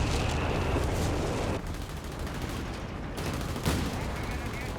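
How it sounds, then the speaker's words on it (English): An artillery barrage rumbles without pause in the Company of Heroes 3 strategy game, a dense, loud roar of overlapping blasts and gunfire with a few sharper bursts breaking through the steady bombardment. "just a blind barrage next to it, maybe hoping to catch the 88"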